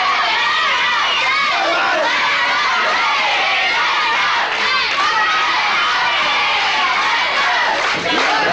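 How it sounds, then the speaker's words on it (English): A large, excited wrestling arena crowd chanting and cheering for DiBiase during a match, a loud, continuous roar of many voices with rhythmic swells, filling the whole stretch. "Very excited crowd, I might add, too, as you can hear them chanting now for DiBiase"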